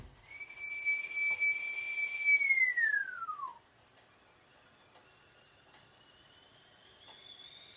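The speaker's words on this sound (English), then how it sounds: "Kettle's boiling." A kettle whistles as water boils for coffee and tea in a tiny house: a steady, fairly loud tone holds for about three seconds, then drops and fades, leaving a faint higher whistle that lingers.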